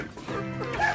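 Three-month-old Rhode Island Red chickens cluck and call close by while foraging for feed, a short burst of clucks with a brief higher call near the end.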